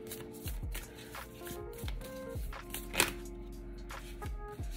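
Work Your Light oracle card deck being shuffled by hand, a steady run of riffling card slaps and soft brushes close by, with no talking.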